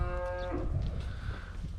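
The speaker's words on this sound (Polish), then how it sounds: "Tutaj mamy krowy wysokocielne, które niebawem się ocielą." A single long, low moo from a heavily pregnant cow, close and loud, with its tone sliding downward before fading into farmyard background noise.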